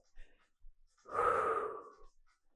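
One deep, drawn-out breath during a barbell step-fitness stretch, close and clear, lasting about a second and set off by a few small soft rustles before and after.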